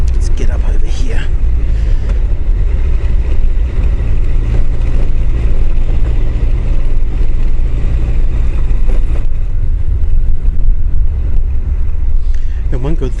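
An old motorcycle rides over a gravel stretch on a New Zealand road near Coromandel, with a steady, loud engine drone and road rumble that runs unbroken throughout.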